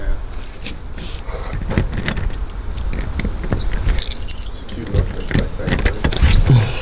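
Keys jangling and clinking continuously while a house door is being unlocked and opened, close and fairly loud, with a faint hum of traffic in the background.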